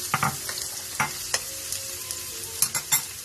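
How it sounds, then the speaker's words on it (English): Chopped onions frying in hot oil in a pan for an Iraqi bagila bil dihin breakfast, a steady close sizzle with scattered sharper crackles and stirring clicks, no voices. "So I'll just pour the onions in and just let it cook evenly"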